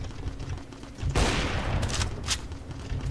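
Rapid automatic gunfire erupts in a Roblox Neighborhood War match, a loud sustained burst following quieter game noise, with a few sharp shots trailing after.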